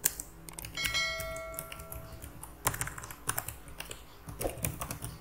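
Close, brisk typing on a computer keyboard, with irregular bursts of sharp key clicks and a few louder thumps like the space or enter key, heard alone at low level.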